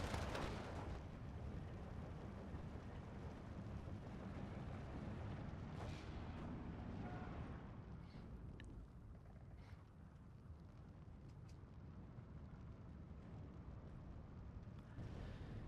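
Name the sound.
artillery fire in the video game Steel Division 2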